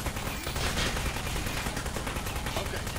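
Rapid gunfire from a weapon in the video game Low Paying Job Simulator, a dense, continuous burst of shots that stays loud and steady throughout.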